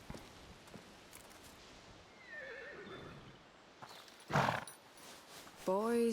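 A horse neighs in A Plague Tale: Requiem, a loud whinny rising near the middle over quiet ambience, with hooves clopping faintly and another short whinny near the end.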